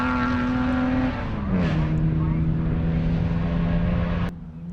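An HQ Holden race car in a national championship at Morgan Park, its engine droning loud and close with a steady tone that dips under a brief lift before settling, while a commentator talks over it.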